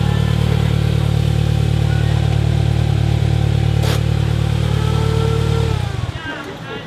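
A Polaris Slingshot three-wheeled roadster's engine runs loud and close with a steady, throaty drone for several seconds, then the sound drops away near the end.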